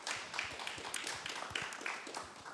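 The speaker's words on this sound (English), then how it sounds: "So give her a big round of applause" An audience claps steadily for a woman panel guest who hosts a podcast, a dense wash of applause with scattered sharper individual claps lasting throughout.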